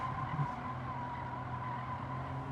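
Steady engine drone of a 621 horsepower turbocharged Mines race car in Gran Turismo 7, a faint, continuous hum heard from inside the game with no talking.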